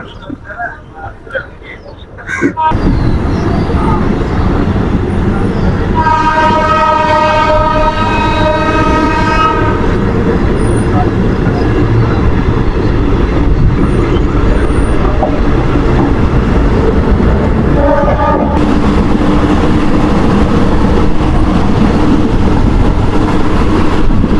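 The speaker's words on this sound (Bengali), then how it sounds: "দেখো ট্রেন এসে পৌঁছালো দু নম্বর প্ল্যাটফর্মে" A night local train on the Bardhaman–Durgapur line pulls into a station platform, its loud continuous rumble and rolling clatter filling the scene, with a horn sounding twice amid the noise and voices talking nearby.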